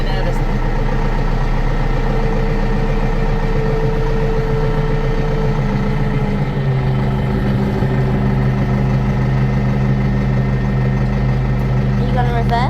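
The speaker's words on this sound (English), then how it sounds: "I just got to teach Mina to stay away from the tractor" A new tractor with a post driver idles at close range in a steady, loud, low rumble that drops to a deeper, rougher pitch about halfway through and then holds evenly.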